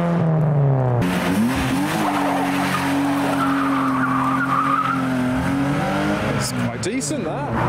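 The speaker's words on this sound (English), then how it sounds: "The E34 did like a full 180, well, more than a 180." Tires squeal loudly in a long skid as a BMW E34 spins more than 180 degrees leaving the Nürburgring, engine revving, with people talking and exclaiming over it.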